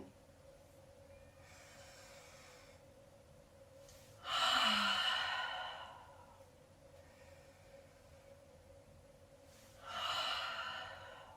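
Two deep, close breaths, the first louder and longer, separated by a quiet pause, as a person breathes in and out during a seated cat-cow yoga movement.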